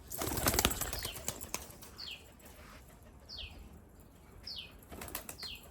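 Rajshahi Giribaz pigeons in flight, wings flapping in rapid bursts with repeated thin chirps and rustles outdoors, moderately loud and close, with no talking.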